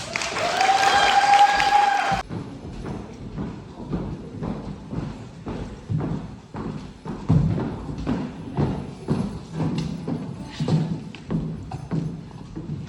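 Enthusiastic audience clapping settles into a rhythmic, slightly irregular group clap, steady and fairly close, after a brief tonal burst at the start.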